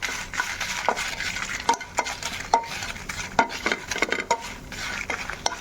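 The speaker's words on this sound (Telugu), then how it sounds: "నేను కొద్దిగా చింతపండు కూడా వేసుకొని ఫ్రై చేసుకుంటున్నాను." A spoon stirs tamarind frying in a pan, giving repeated scraping clinks at an irregular pace over a soft, steady sizzle, close and moderately loud with no voices.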